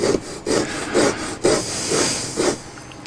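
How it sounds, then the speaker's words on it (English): Rhythmic rasping strokes of sandpaper on a wooden model airplane horizontal stabilizer, about six back-and-forth passes, close and steady with no voices. "Skillfully sanding until you get the right angle."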